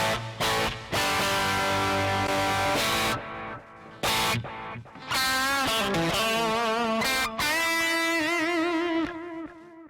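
An electric guitar played through a Hotone Ampero multi-effects unit with reverb and some distortion rings out in sustained chords and bent notes, loud and close, with tails fading between phrases.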